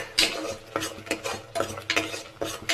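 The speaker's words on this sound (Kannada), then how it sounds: "ಬೆಳ್ಳುಳ್ಳಿ, ಶುಂಠಿ, ಈರುಳ್ಳಿ ಫ್ರೈ ಆಗ್ತಿರೋದು ಘಮ ಘಮ ಸ್ಮೆಲ್ ಬರ್ತಾ ಐತಿ" Close, rhythmic scraping of a spoon stirring garlic, ginger and onion frying in a pan for country chicken curry. Rapid utensil strokes recur over a faint sizzle, with no talking.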